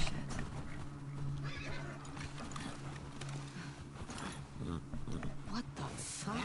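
Horse neighing in the video game The Last of Us Part II, a whinny with hoof clip-clops layered over a steady game soundscape, with a voice talking throughout.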